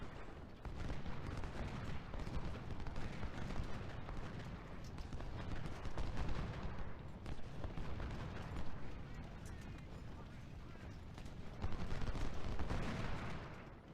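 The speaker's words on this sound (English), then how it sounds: "Got like 100 riflemen firing into the enemy flank" Massed rifle fire from a Civil War battle at Gettysburg in the video game Ultimate General: Civil War, a dense, continuous crackle of many muskets going off together at a distance, steady for the whole stretch.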